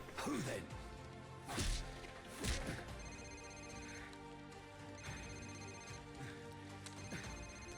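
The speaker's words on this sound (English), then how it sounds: "it's his cell phone" A cell phone rings inside a dead man's pocket during a breach in Call of Duty 4, a steady tonal ringtone repeating over game ambience, broken by a few sharp crashes.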